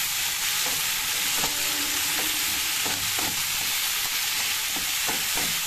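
Tomato pieces frying in a pan for chicken donne biryani, a steady loud sizzle throughout with intermittent scraping stirs of a spoon, close and with no voices.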